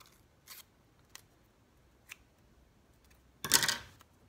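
Scissors snip through cereal box cardboard in a few separate short cuts spread out in time, ending with one longer, louder crunching cut, close and alone with no talk.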